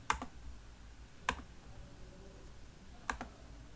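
A computer mouse clicks to run a simulation in Verilog design software, three sharp, isolated clicks spaced about a second apart, faint and close in a quiet room.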